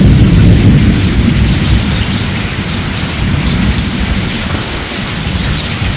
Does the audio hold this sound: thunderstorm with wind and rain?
yes